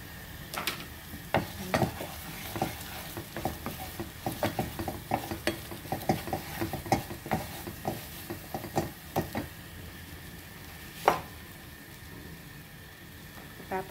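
Rice frying in a pan, with a steady sizzle and a busy run of spatula knocks and scrapes that thins out toward the end, close and moderately loud.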